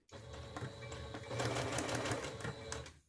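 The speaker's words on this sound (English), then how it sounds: "I'm just going to sew all the way to the end." A sewing machine stitching ribbon onto a child's dress runs in a steady, fast mechanical whir with rapid needle ticks for about three seconds. It is close but fairly quiet, and there is no talking.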